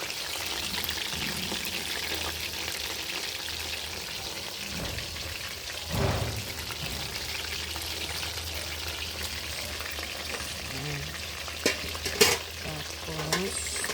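Chicken sizzles steadily while frying in a pan as a utensil stirs it, with scraping and clattering strokes around the middle and near the end, close and continuous.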